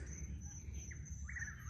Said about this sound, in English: That bird making that sound.